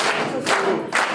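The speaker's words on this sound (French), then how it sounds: "applaudissons!" Short burst of clapping at a school kitchen and dining hall inauguration, swelling in a few uneven waves across a little over a second.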